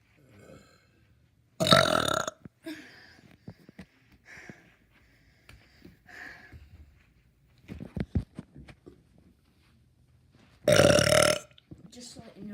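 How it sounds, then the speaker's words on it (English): Two long, loud burps from a person, one near the start and another near the end, separated by quieter sniffs, breaths and small mouth noises, with talking in between. "It's time for burping time."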